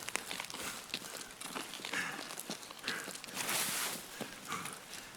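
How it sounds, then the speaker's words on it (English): Footsteps from a player in Escape from Tarkov, inside a building ahead, land as a run of short, fairly loud steps over crunchy, noisy in-game ambience. "I can hear his footsteps in front of me"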